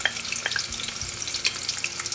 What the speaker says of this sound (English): I'll add in the onions and I'll let this fry a bit